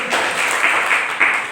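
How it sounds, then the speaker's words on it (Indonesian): Students in a classroom clap together in a short, dense burst of applause that stays close and steady before tailing off. "Beri tepuk tangan dulu dong."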